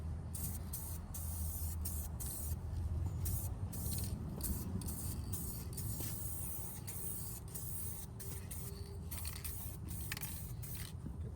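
A spray gun applies paint to the trunk of a Mini Cooper with a continuous close hiss, broken by short gaps between passes, steady and alone.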